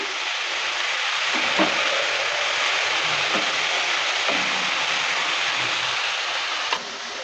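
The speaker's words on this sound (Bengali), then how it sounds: "লবণটা দেওয়ার পর ভালো করে আবারও নেড়ে করে নিচ্ছি" Jackfruit seeds fry with water spinach in a pan, a steady close sizzle with a few soft scrapes and knocks from stirring, no voices.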